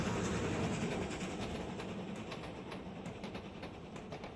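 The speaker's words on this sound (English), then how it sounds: "One of Red's own duplexes careers on by" An animated duplex steam locomotive hauling a train on a railroad, a steady dense rumble and rolling clatter with faint rhythmic clicks, continuous and moderately loud throughout.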